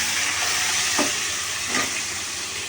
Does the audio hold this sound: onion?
yes